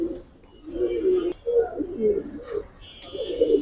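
Giribaz and grizzle pigeons coo in soft, repeated low rolling calls close by, with brief pauses between bursts and a faint voice in the background.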